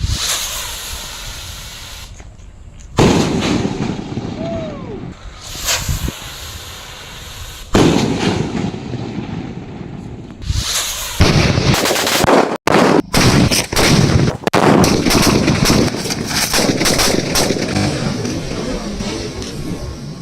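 Diwali firecrackers go off close by, with loud bursts, crackling volleys and hissing fizzes that rise and fall across the span, one sharp bang standing out, and no talk.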